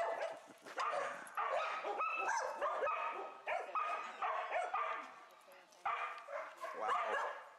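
Several Australian cattle dogs bark, yip and whine excitedly in overlapping bursts, close by at an animal rescue, with a person's voice mixed in among them.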